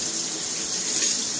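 Very cold water runs from a kitchen tap in a steady, close splashing stream into the sink, with no voices over it.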